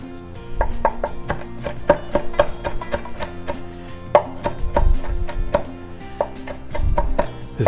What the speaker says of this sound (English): we're gonna take some thyme, also fresh from my garden.